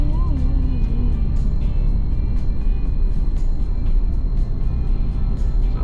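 Car with small suspension crossing a rough, broken road beside an open canal in Imus, Cavite, giving a loud, continuous rumble and rattle with repeated bumps and clunks, plus faint background noise.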